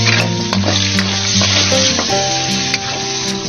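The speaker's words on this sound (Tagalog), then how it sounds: "Gisa lang natin yung sibuyas at saka kamatis dito" Onion and tomato sauté in a pan with a loud, continuous sizzle, punctuated by the clatter of stirring.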